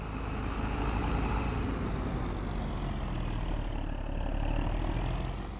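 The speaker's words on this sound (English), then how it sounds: "There you go, you can hear that turbo a little bit." Fendt tractor engine with turbo in Farming Simulator 25, a steady loud drone that holds throughout with a faint turbo whistle rising briefly near the middle, no voices over it.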